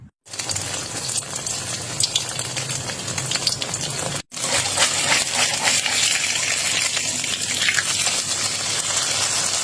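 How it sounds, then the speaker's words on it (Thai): Corn fritter batter made from shaved kernels deep-fries in hot oil, giving a steady, close, crackling sizzle that breaks off once briefly, then resumes with no talking. "เดี๋ยวเราก็จะนำไปทอดแล้วค่ะทุกคน"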